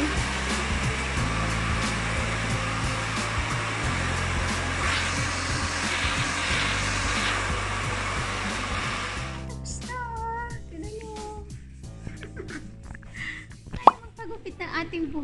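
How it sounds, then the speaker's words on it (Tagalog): A hair dryer blows steadily and loudly up close as someone blow-dries their own hair at a barbershop in Switzerland, then cuts off, leaving voices and small background noises. "ako na yung magblower ng sarili ko"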